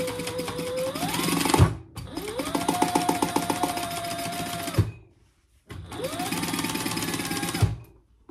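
A sewing machine stitches a basting seam along the zipper and lining of a handbag in three close, rapid bursts of mechanical whirring. Brief pauses fall between the runs, with a clunk at the end of each.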